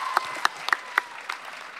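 Audience at a Vampire Diaries Comic Con panel breaking into brief applause, a quick burst of close, sharp claps that tapers off within two seconds.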